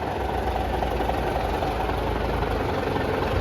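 A 12-wheel 700 series truck sits with its diesel engine idling, a steady, deep, close rumble with a slight knocking pulse and no voices.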